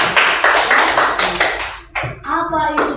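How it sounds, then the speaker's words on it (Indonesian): A primary school class claps hands together in rhythmic patterned bursts, close and loud, shifting near the end into a brief spoken or chanted vocal phrase. "Tepuk tangan dulu."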